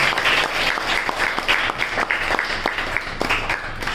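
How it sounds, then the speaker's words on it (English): An audience gives a student a steady round of applause, dense and fairly close, lasting the whole few seconds with little else audible. "she deserves a strong big round of applause"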